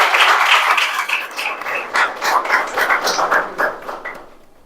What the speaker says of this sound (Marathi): तर नर्मदा दालनासाठी आपण एकदा टाळ्या वाजवूया